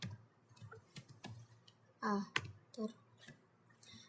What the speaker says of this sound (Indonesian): Kita ketik perintah ARPA.